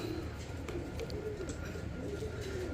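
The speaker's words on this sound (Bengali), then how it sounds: "ফুল জেড স্প্রিংয়ের ভিতরে এক জোড়া মুখী কবুতর, এই যে জোড়াটা, এই দেখেন।" A pair of Mukhi pigeons in a cage coo softly, the low, faint calls repeating under a murmur of background room noise.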